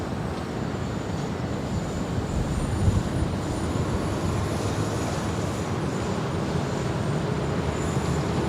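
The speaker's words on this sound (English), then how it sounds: "that 777 certainly looking like she's heading up here for a north side arrival" A Boeing 777 arriving at LAX produces a steady, distant broadband roar of jet engines that holds evenly throughout, with no voices.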